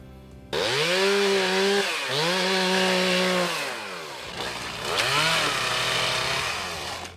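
A power tool, likely a chainsaw-type trimmer, cutting bushes on outdoor work crew duty: a loud, close motor that revs up, dips and surges again in long whining bursts, with no voices.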